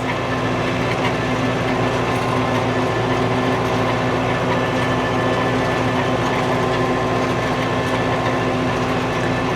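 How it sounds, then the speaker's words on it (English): A farm tractor's engine idles with a dense, steady rumble and a constant mechanical hum, loud and close, holding unchanged throughout with no voices. "Then I had to stop the tractor to do that."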